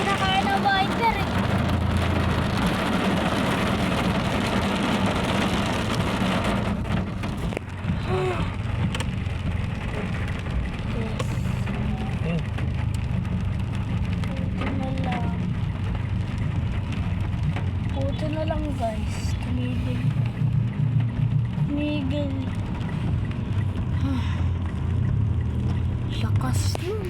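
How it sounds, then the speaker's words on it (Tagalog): Steady heavy rain drums on a car roof and windshield in a dense, continuous roar, with people talking underneath throughout. "Kanina pa nga lakas ng ulan guys."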